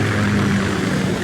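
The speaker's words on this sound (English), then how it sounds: "Kasatka? Kamov chopper, right?" Kamov K-60 Kasatka helicopter in Metal Gear Solid 2, a steady droning engine and rotor hum, close and continuous at moderate loudness with no talk over it.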